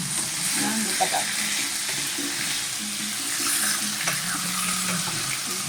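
Pork sizzling in a hot pan, a steady frying hiss with occasional scrapes and bumps from stirring, close, as a person talks quietly in the background.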